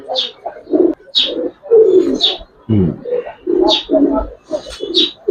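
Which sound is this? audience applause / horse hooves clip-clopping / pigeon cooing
pigeon cooing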